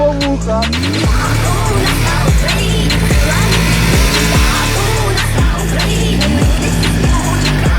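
An Alfa Romeo, driving again after its seized engine was freed, revs loudly and close by in repeated rising surges that fall away, about once a second.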